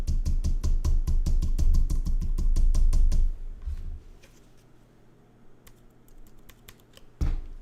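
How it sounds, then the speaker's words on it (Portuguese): Rapid keystrokes on a computer keyboard, a steady run of close, crisp clicks for about three seconds, then a few sparse, quieter taps against a low hum, ending with one louder key press. "você aperta Delete no seu teclado"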